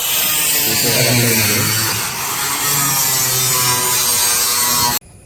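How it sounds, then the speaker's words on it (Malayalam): A power tool cuts through a metal roofing sheet being trimmed to six feet for a door on a sheet-work job, a loud continuous buzzing grind with a rasping edge that runs steadily for about five seconds and then stops abruptly. "ഡോറിൻ്റെ ഷീറ്റ് ആറടിക്കാണ് നമ്മൾ കട്ട് ചെയ്യുന്നത്"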